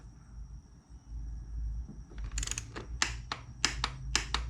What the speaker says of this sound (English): Now we're gonna go ahead and torque that to spec.